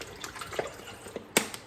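Water is poured out of a household's children's water bottles into a sink, with scattered splashes and drips and one sharper splash near the end, heard close and without talking.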